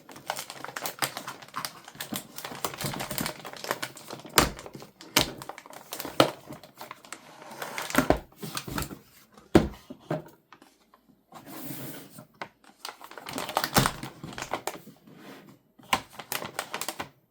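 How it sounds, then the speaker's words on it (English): Motherboard packaging handled up close, giving bursts of crisp crinkling and tapping clicks separated by short quiet pauses. "So maybe we'll just do some crinkly ASMR bits."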